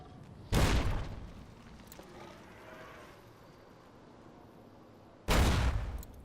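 Two frag grenade explosions in a post-apocalyptic video game, each a sharp loud blast with a short decaying rumble, spaced several seconds apart with a quiet stretch between.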